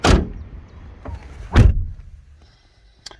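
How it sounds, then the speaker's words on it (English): A Land Rover Freelander 2 car door slams shut twice, each a loud, close, solid thunk with a short decay, the second heavier, followed by a faint click and a small tap. "Door shut sounds a bit Vauxhall-y actually."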